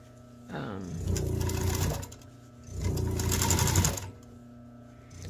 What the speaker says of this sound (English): So I've sewed the seam area twice and I know it's locked in.